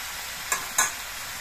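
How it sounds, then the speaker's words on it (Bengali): Two quick scraping stirs of salted vegetables with Malabar spinach in a cooking pan, soft and brief over a faint background sizzle. "নুন দিয়ে নেড়ে চেড়ে মিশিয়ে দিতে হবে"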